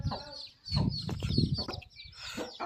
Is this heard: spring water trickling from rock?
no